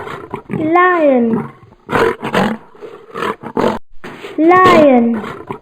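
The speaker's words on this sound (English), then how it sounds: "Lion." A lion roars twice, long drawn-out throaty calls at the start and near the end, with a series of shorter, loud grunting bursts packed in between.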